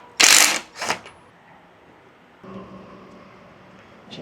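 Screws being backed out of scooter handlebars, two loud close ratcheting bursts at the start, then a quiet stretch and a fainter mechanical whirr toward the end.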